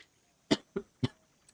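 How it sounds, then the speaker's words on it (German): Three sharp coughs in quick succession from a man playing a racing video game, the third heavier, followed by a faint fourth catch, close to the microphone with no talking. "mein Husten"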